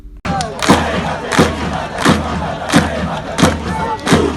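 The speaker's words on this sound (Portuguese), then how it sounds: "a torcida comemorou a classificação cantando o hino do clube" A football crowd sings the club anthem together to celebrate qualifying for the final, a loud, sustained mass of voices with rhythmic accented shouts that swell about every 0.7 seconds.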